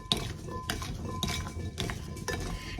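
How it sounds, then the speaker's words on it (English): Sliced carrots tossed with oil, vinegar and salt in a metal pan, giving repeated scraping clinks and rattles in an irregular rhythm, close and moderately loud with no talking. "I am simply tossing these so that they are coated with the oil and the vinegar"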